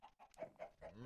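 A Minecraft chicken gives a quick series of soft, faint clucks, about four short calls in a second, with no talking.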